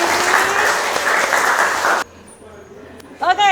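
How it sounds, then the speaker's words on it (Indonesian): A school class bursts into loud, close applause for about two seconds, then it stops abruptly, leaving quiet room tone before a voice starts speaking. "tepuk lagi"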